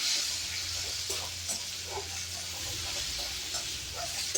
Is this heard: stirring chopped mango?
yes